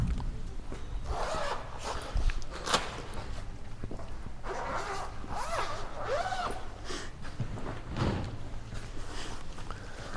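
A zipper is pulled open on the cover of a heavy TV stand base, followed by rustling and sliding as the base is unpacked, with close handling noises and no talking.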